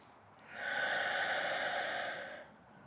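A deep yoga exhalation pushed out through a wide-open mouth, one long breathy rush of air lasting about two seconds, close and steady, then fading back to quiet.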